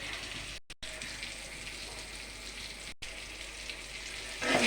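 Food frying in a pan in a home kitchen gives a steady, continuous sizzle close by, broken by two short silent gaps and rising slightly louder at the end, with no talking.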